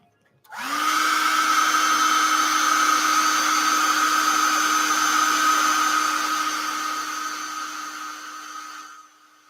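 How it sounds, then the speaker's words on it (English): A hair dryer switches on with a sudden whoosh and runs as a steady, loud whirring hum with a high whine, alone, then cuts off, drying paint on a model base. "We'll hit it again with the hair dryer in a second."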